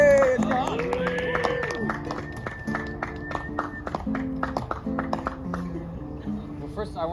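Open-mic audience applauding, a dense patter of many hands clapping at moderate volume that holds steady, with a cheer or shout near the start and crowd murmur underneath.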